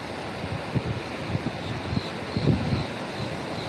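Surf from the Atlantic at Daytona Beach, Florida, during Hurricane Ian, a steady wash of breaking waves with wind buffeting the microphone and a few louder surges near the end, no talking.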